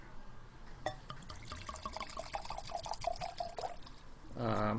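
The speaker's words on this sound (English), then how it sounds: "So what I'm going to do is go ahead and give a pour here." Ruby port wine poured into a glass, a thin glugging trickle with bright rising tones as the glass fills, fairly faint and close, with a brief voice at the end.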